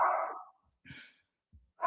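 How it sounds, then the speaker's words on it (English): An excited dog barks indoors: a few short, sharp barks and yips separated by brief silences, fairly close and moderately loud. "I'll go get my dog if I need to. He's very excited."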